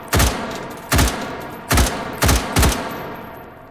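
Five loud, sharp rifle shots from an Mk 12 Special Purpose Rifle ring out in the H3VR game, spaced unevenly about a second apart, each with a short echoing tail.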